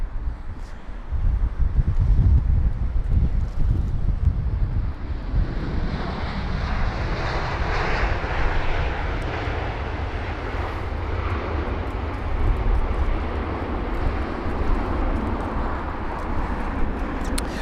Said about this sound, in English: So Air India, obviously with a really nice arrival there.